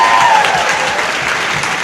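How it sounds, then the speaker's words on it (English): Applause from an audience at the Mason County Fair market hog show: a steady, full wash of clapping that fills the whole stretch at even loudness, with no one speaking. "give them a nice round of applause here, please"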